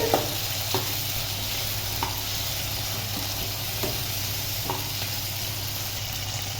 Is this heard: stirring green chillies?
yes